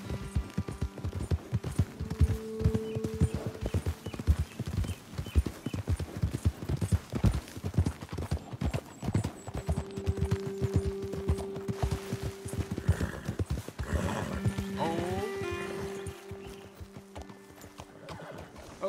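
Horses in Red Dead Redemption 2 moving along a trail, with rapid rhythmic hoof clip-clops throughout and a couple of whinnies, fairly close, slowing toward the end.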